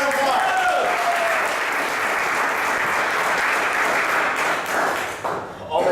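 An audience claps loudly and continuously for improv performers taking the stage, a dense sustained round of applause that tapers slightly at the end.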